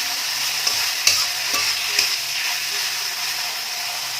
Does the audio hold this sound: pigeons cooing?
no